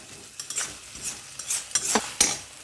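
Chicken with spices and salt is stirred and sautéed in a pan, a spoon scraping in repeated strokes over a steady close sizzle with no one speaking.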